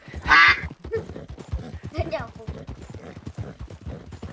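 Horse hooves clip-clop in a rapid steady rhythm in Red Dead Redemption 2, from a Missouri Fox Trotter, with a sharp whinny-like call at the start and someone talking over the gait.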